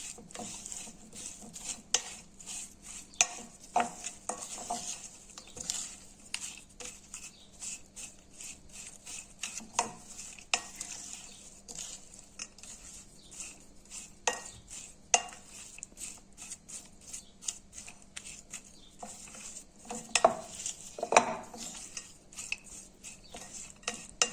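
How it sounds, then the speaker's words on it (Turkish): Sun-dried tomato salad being mixed thoroughly in a bowl with its dressing, giving irregular clinks and scrapes of a utensil against dishware, moderately close and alone without talk. "harmanlıyoruz iyice."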